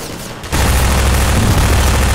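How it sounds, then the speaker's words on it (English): Half-Life 2 gunships open fire: after a brief lull, a loud, dense burst of rapid automatic gunfire and booming roars sweeps in and keeps going steadily for the rest of the moment. "I'm still getting shot at"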